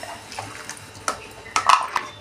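A little water pours into a cooking pot for chicken sweet corn soup, heard as a few quiet splashes and trickles with light clinks, close by over a faint background.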